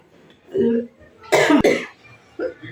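A person coughs close by: a short rough cough, then a louder harsh burst, and a final brief cough, with brief throat sounds between them.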